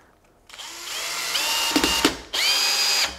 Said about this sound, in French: Je vais visser à fond, sans forcer plus que ça.